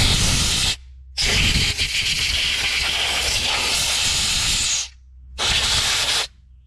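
Penetrant sprays in loud hissing bursts onto a Detroit 271 diesel generator engine, one short blast, a long sustained spray of about three and a half seconds, then another short burst, with brief silent gaps between.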